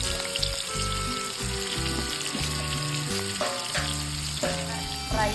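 Flour-dusted snakehead fish frying in hot oil in a home kitchen: a loud, steady spitting sizzle with occasional stirring and clatter, under background music.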